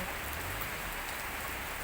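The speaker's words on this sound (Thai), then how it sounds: "ฝนตกตั้งแต่7โมง6โมงเลยตกมาแรง" Heavy morning rain pours down steadily, a dense, even hiss of drops hitting surfaces close by, with no voices.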